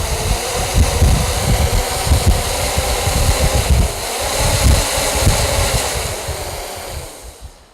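Hexacopter 550 motors and propellers spinning at about 60% throttle give a steady, loud whirring roar with a broad airy rush that holds level, swelling slightly midway, then tapers off near the end.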